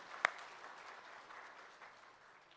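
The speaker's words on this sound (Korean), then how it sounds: "부활하신 예수님께 우리 박수로 최고의 경배를 올려드리기를 원합니다." Church congregation clapping during an Easter Sunday service, one sharp nearby clap at the start, then a faint, diffuse wash of applause that slowly fades.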